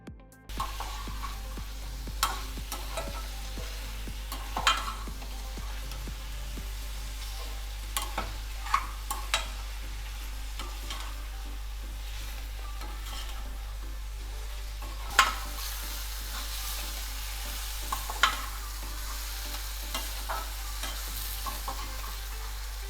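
Steady frying sizzle of onions and tomatoes sautéing in a pan, for Bombay chutney, with occasional scraping stir strokes and clinks, continuing without voices.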